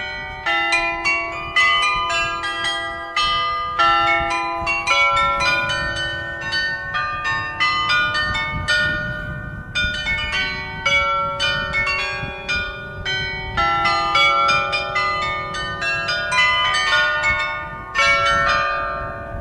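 Church carillon bells in Enkhuizen, North Holland, ring out in a continuous melodic peal, many bright overlapping chimes sounding loud and clear with no voices.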